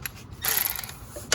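A ratchet fitted with a deep socket works on long bolts of a 2008 Ford Escape 3.0 V6, giving short close mechanical clicks and a brief whirring burst.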